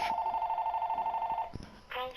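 A telephone in the room rings nearby with a rapid, trilling electronic warble lasting about a second and a half, then cuts off abruptly before a brief thump and a short burst of another sound.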